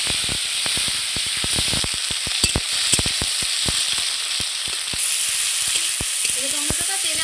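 Tomato fries in hot oil with a steady sizzle up close, broken by frequent sharp pops and stirring clicks, with no talking.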